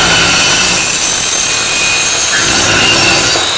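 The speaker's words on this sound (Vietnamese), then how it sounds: "mình có thể cắt sắt nhỏ là cắt thôi về xài." A small alloy-blade cutting machine bites through iron, giving a loud, continuous grinding rasp that holds steady without pause and drops away slightly at the very end.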